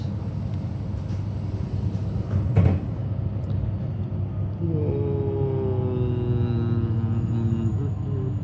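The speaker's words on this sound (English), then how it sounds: "Yep, there's a train" A train on Melbourne's Hurstbridge line rumbles past with a steady low drone, joined partway through by a rising whine of electric motors, with brief sounds of people nearby.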